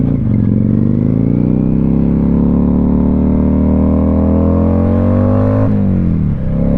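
A Kawasaki Vulcan cruiser motorcycle running without baffles roars loud and close, its rumbling exhaust note climbing steadily as it accelerates, then dipping briefly at a gear change before pulling again.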